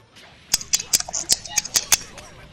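Sharp, crisp clicks from game controller buttons during a Dragon Ball FighterZ match, about eight quick taps in an irregular burst, close and distinct over a quiet background.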